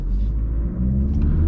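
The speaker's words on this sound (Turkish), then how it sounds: "biraz patinajla kalktık." An Audi A3 Sportback 1.6 TDI 120 hp with S-tronic gearbox pulling away hard from standstill with some wheelspin, heard as a loud, deep, steady engine rumble from inside the car.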